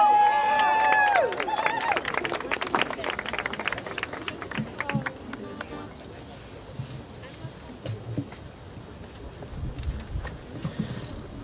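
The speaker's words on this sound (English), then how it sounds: "Give them a round of applause." A crowd at a Washington climate change rally applauds the sound crew; the clapping and cheering start strong and then thin into scattered claps and crowd noise.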